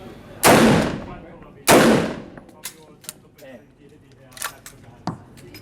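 Two loud gunshots from a handgun at an indoor shooting range, about a second apart, each with a sharp crack and booming echo, followed by faint clicks and handling sounds.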